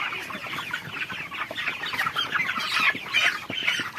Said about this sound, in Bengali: 5টা মুরগি শুয়ে রয়েছে, 5টা মুরগি ধরো।